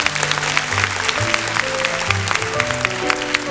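A 1977 French TV show audience claps for a contestant, brisk continuous applause under steady musical tones from a band playing along.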